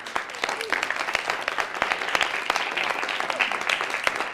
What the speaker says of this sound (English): Give yourselves a round of applause for me.